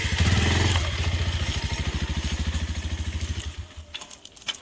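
A motorcycle is eased to the side and parked on a farm, its engine putting in a rapid, even pulse that slows and fades out as it shuts down.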